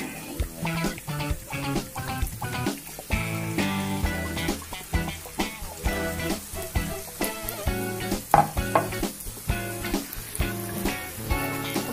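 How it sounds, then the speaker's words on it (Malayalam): Batter-dipped ripe banana fritters, Kozhikode-style pazham pori, fry in hot oil with a steady close sizzle and crackle throughout, and tonal sounds run underneath. "ഓരോന്നായിട്ട് ഓയിലിലേക്ക് ഇട്ട് കൊടുക്കാം."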